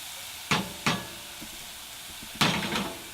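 Garlic simmers over low heat in a pan, a soft steady sizzle punctuated by a few sharp stirring scrapes and knocks nearby, with no voices.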